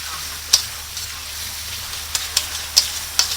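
Shrimp stir-frying in a pan for seafood pasta, a soft continuous sizzle with several sharp pops and spatters scattered through, close and fairly quiet.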